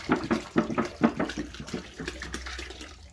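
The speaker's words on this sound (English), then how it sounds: "So we're gonna go ahead and put 4 gallons of water in this to start." Water pouring into a large bucket for mixing drywall texture, an uneven splashing gush that is louder at first and then settles to a softer, steady trickle.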